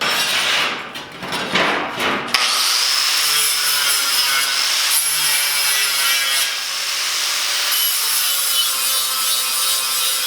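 Angle grinder working cut steel pieces for a TV stand, a loud sustained high-pitched grinding whine that starts abruptly after a moment and runs steadily with slight shifts in pitch.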